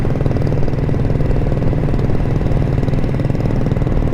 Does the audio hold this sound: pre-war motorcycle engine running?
yes